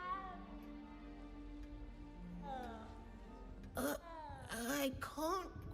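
A frightened cat in the Hogwarts Legacy video game gives several drawn-out, wavering meows that grow louder and closer toward the end, over soft game ambience and faint speech.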